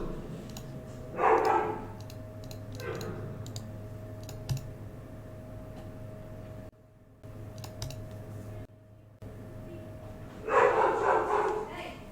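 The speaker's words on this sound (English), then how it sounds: "If y'all could hear Lucy barking up a storm." A dog named Lucy barking in short bursts somewhere in a room, a few muffled barks spaced apart over steady background hum and light clicking, with a voice talking at times.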